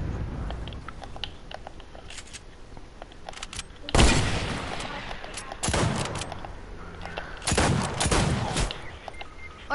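Gunfire in a shooter video game, with rapid bursts and sharp bangs in several dense clusters, loud and close, with occasional voices under the shots.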